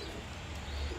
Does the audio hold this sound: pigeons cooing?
yes